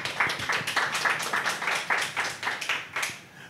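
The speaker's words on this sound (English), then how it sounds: "Round of applause, everybody. Round of applause." Audience applause at the start of a live speaking event, a modest crowd clapping in quick, uneven bursts that stay fairly close and moderately loud before tapering off.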